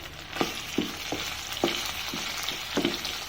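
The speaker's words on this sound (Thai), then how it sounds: "พอน้ำมันเริ่มเดือดแล้วเราก็จะมาใส่พริกแกงนะครับ" Southern Thai curry paste fries in boiling oil for a stink bean and prawn stir-fry, a bright continuous sizzle broken by regular knocks and scrapes of stirring, close up and without talk.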